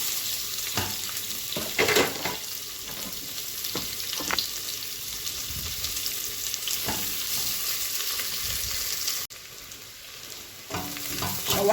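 Chopped onions fry in a little oil, a steady sizzle broken by occasional scraping stirs of a utensil against the pan; near, with a short dip in the hiss partway through.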